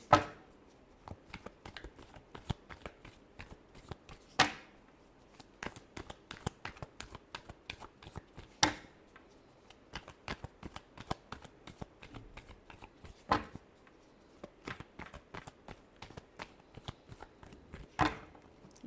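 A deck of tarot cards is shuffled by hand during a love reading, giving steady quick riffling and flicking with sharper snaps every few seconds, close and alone with no talk.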